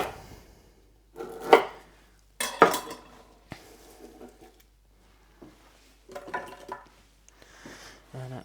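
Knife roughly chopping lemongrass on a board, a few scattered sharp cuts and clatters with quiet gaps between them, close by.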